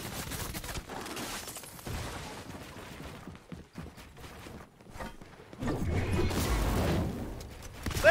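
Game gunfire in a Fortnite-style build fight, heard as scattered shots and bursts with whooshes and clattering effects, growing louder and denser toward the end.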